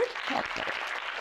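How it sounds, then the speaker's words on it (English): A convention audience gives brief applause for donors during closing remarks, a short burst of clapping with a voice briefly audible at the start. "Big round of applause for the donors."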